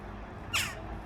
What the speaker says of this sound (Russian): Вон уже ворона.